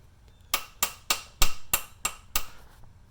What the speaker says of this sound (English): tap it on the lathe a little bit until it loosens